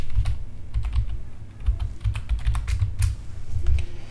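Fingers type a username and password on a computer keyboard in a steady run of close, quick key clicks with brief pauses and no talking.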